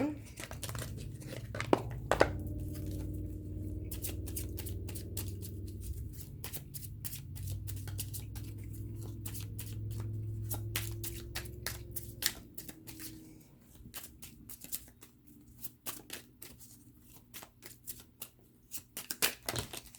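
Cartomancy cards being shuffled and drawn: a rapid run of crisp papery riffles and snaps under a steady voice. The flicks grow sparser and sharper after the talk fades partway through.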